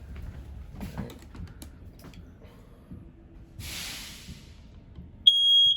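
A smoke detector in a 2022 Avenger 27RKS RV sounds a sudden loud, steady high-pitched electronic tone at the end, preceded by quiet handling noise and a brief hiss.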